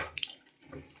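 Thin, weak trickle of water from a tap in a property with very low water pressure, a short quiet gurgling flow with a couple of brief splashy spurts near the start.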